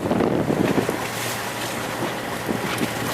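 A boat engine churns steadily in reverse into strong wind in the southern Abacos, with water rushing and a constant low drone throughout.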